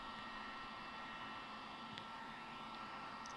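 A heat gun blows with a steady, quiet whoosh of hot air while heat-shrinking window tint film on a car window. The airflow holds a constant hiss with no pauses.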